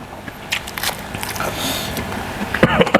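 Crunchy Luang Prabang-style green papaya salad with fresh shrimp being bitten and chewed up close, with irregular crisp crackles and soft mouth sounds, louder crunches near the end.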